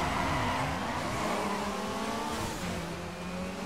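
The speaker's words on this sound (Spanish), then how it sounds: "Oye, cómo me gusta el sonido del turbo" A turbocharged Chevy Camaro revs hard and steadily in the street-racing game Midnight Club L.A., giving a loud, sustained engine roar with rising and falling pitch, heard on its own.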